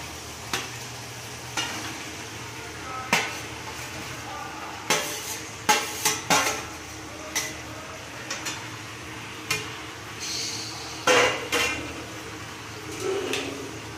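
Fried cauliflower goes into a pan of hot oil for a hilsa fish curry, giving a faint sizzle broken by sharp spoon-and-pan clinks and stirring knocks at an irregular pace, with no talk.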